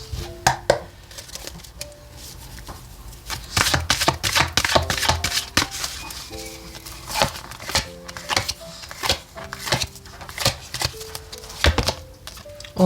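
Tarot cards shuffled by hand during a weekly reading, giving a run of crisp riffling and slapping bursts with sustained musical tones underneath, close and moderately loud.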